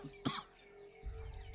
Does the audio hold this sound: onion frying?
no